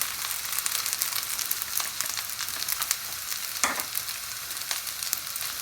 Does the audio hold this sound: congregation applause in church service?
no